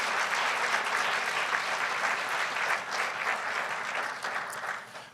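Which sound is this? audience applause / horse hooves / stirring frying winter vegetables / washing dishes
audience applause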